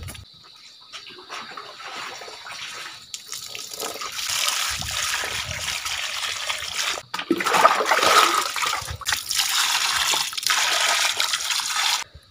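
Seawater splashes and trickles on a shore at high tide while sea cucumbers are cleaned, with irregular sloshing and dribbling that builds from soft to louder bursts, close up.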